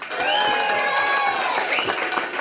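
At a youth football Super Bowl, a crowd of children cheers and shrieks as the bantam players are introduced, a loud continuous wash of high voices with shouts rising over it.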